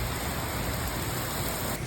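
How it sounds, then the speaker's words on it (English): Heavy monsoon rain pours down outside during repair work on a Honda Civic's cooling system, a dense, steady roar of downpour that fills the whole two seconds and cuts off sharply at the end. "Sorry about the monsoon rain that we got in the middle of my video."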